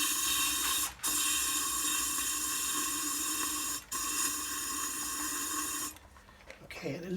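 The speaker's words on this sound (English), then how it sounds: "it's just spraying out the sides" Waxoyl rust-proofing spray gun hissing steadily into a glass jar, a loud continuous spray broken by two brief trigger pauses before it cuts off near the end.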